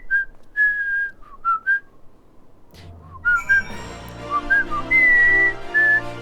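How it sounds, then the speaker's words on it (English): A person whistles a tune close by in clear short notes, then keeps whistling over swelling background music that comes in halfway through. "I'm still gonna whistle anyway"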